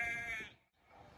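A short, faint sheep bleat with a wavering tone, fading out quickly, followed by quiet background.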